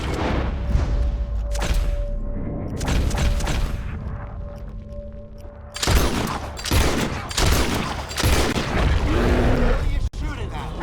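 Gunfire volleys in Red Dead Redemption 2, several loud overlapping bursts of shots and booms over a few seconds, with game music and voices talking beneath.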